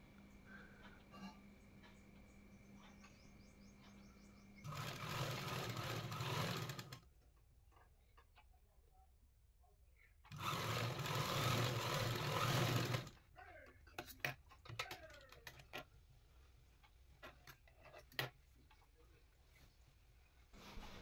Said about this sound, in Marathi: आता या कटमार्क पर्यंत आपण हा हात जोडणार आहोत